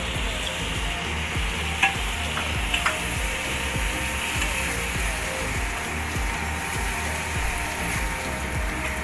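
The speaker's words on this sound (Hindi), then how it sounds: "अब हम इसमें डालेंगे ये जो हमारे 2 चॉप करे हुए टमाटर हैं" Chopped tomatoes sizzle loudly in a pan with frying ginger and garlic while a spoon scrapes and stirs in a steady rhythm throughout, close up with no talking.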